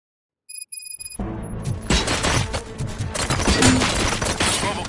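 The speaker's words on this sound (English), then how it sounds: "Gunshots? What's going on?" Gunfire in the video game RoboCop: Rogue City. After a few faint beeps and a short pause, dense rapid shots break out and keep going in a loud, overlapping barrage.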